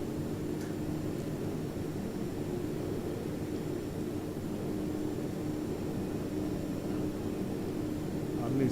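A de Havilland Beaver in X-Plane 11, backcountry in Utah, with power pulled to idle: a steady, even broadband engine-and-wind drone holds at a constant level throughout, with no talk over it.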